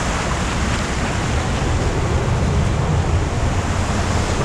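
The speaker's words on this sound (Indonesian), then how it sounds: "Ombaknya semakin lama semakin naik." Ocean surf rolls onto a south coast beach, a loud continuous roar of rising waves with wind rushing across the microphone and no voices.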